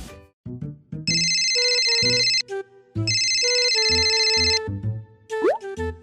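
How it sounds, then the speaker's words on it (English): A phone ringtone plays loud and close, a repeating electronic melody of bright tonal bursts over a bouncy rhythmic backing, with a quick rising sweep near the end and no voices. "I guess this is the last phone call for the month."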